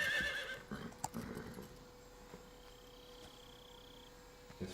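A horse whinnies briefly near the start, followed by faint hoof clops and quiet game ambience with occasional soft tones, in Metal Gear Solid 3: Snake Eater on PS3.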